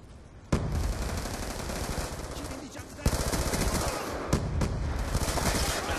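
Video game shootout with sustained automatic gunfire, loud rapid bursts that run almost continuously and are punctuated by a few sharper single cracks, close and dominant throughout.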